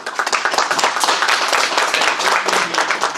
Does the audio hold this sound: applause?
yes